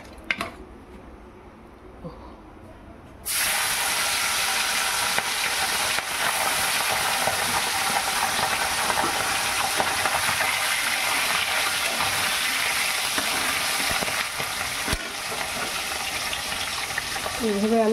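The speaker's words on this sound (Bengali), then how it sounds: "এবার আমি মাছটাকে ভেজে নেব।" Large puti fish drop into hot oil and a loud, sudden sizzle erupts, then holds as a steady close frying hiss, after a quieter moment of faint kitchen noise; a voice speaks briefly.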